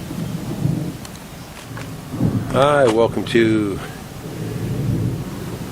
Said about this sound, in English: Got a few thunders coming in on the edge of this storm, I guess.